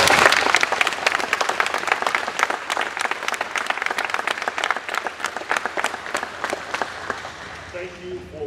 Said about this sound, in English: Let's give our police a round of applause.